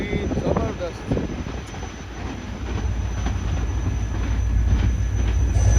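Passing train heard from aboard the Tezgam express at night, with steady loud rumble of wheels and railcars building toward the end, squeals and clatter over a continuous roar.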